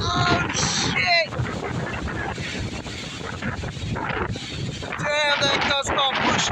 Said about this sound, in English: That's a big gust.